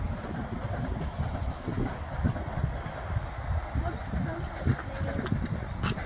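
A train pulls out of Shrewsbury station with a steady rumble of wheels and carriages heard from on board, people talking over it throughout and faint clicks near the end.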